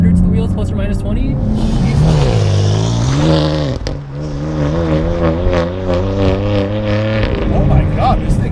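A track-prepared 525 hp BMW M4 on a race track, its engine loud and close as it revs, the pitch climbing and falling in long sweeps before settling into a steady drone.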